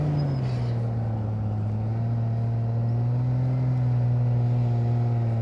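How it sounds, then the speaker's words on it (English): A motorcycle engine idles and putters smoothly during slow-speed riding practice, a steady low hum with a slight pitch rise midway, moderately close and heard alone. "I love the way this bike sounds, nice and smooth."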